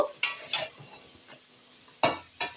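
Vegetables with spices being stirred in a pan over a low flame, a few scattered scraping strokes of a utensil against the pan with a faint sizzle between them.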